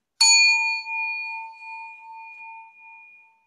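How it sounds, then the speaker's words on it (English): A singing bell is struck once, giving a bright, clear ding that rings on as a pure sustained tone and slowly fades in silence. "I'm going to ding my singing bell, and let's just take a collective breath together."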